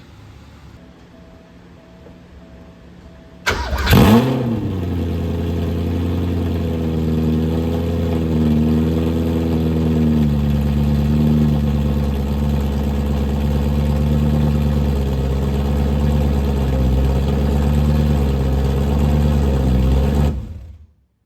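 After a quiet hum, a Porsche 928 S4 engine with a stainless steel header-back exhaust cranks and catches with a burst on a cold start, then settles into a steady, slightly wavering idle near 1,000 RPM before cutting off abruptly.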